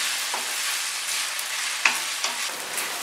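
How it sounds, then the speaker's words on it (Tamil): Onions sautéing in oil while a country chicken pepper masala is prepared, giving a steady close sizzle with a few soft stirring scrapes and small pops, no voices. "வெங்காயம் கொஞ்சம் நல்லா வதங்கிடுச்சு"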